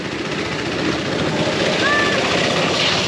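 Restored vintage go-kart with a small engine running after decades unused, a steady buzzing drone heard close and continuous with a voice talking over it.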